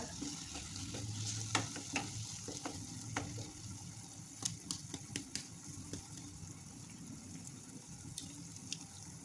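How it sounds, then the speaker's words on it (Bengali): Olive pickle cooking in a pan and stirred now and then, with a steady low sizzle and occasional scraping taps of the spoon against the pan, close and alone. "আচারটা আস্তে আস্তে হয়ে যাচ্ছে কিছুক্ষণ পরপর আমি নেড়ে ছেড়ে দিচ্ছি"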